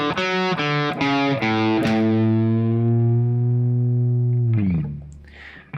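A distorted electric guitar plays the single-note lead riff from a song: several quick picked notes with a bend, then one long sustained note that rings and fades, loud and close with no voices.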